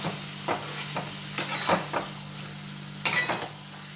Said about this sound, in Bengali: নুনটা দিয়ে দিচ্ছি আবার নেড়ে মিশিয়ে দেবে